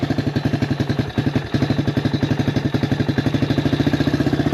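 A Suzuki DR200 motorcycle single-cylinder engine with a Nibbi carburetor idles close by, a steady rhythmic putt-putt chugging with a brief stumble about a second in, then an even beat again.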